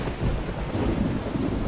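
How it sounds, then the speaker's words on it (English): A low, rumbling roll of thunder with rain hissing underneath fills the background of Project Zomboid, a steady, continuous storm rumble with no voices. "That thunder's gonna bring in zombies."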